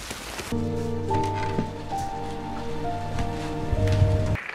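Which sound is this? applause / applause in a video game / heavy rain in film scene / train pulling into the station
heavy rain in film scene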